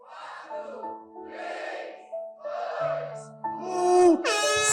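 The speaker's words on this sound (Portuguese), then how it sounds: "Levei uma buzina." An air horn sounds at a wedding celebration, swelling into a loud, blaring blast near the end over murmuring voices and tonal background noise.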